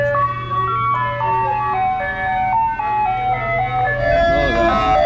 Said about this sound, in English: So there's an ice cream truck that comes by every once in a while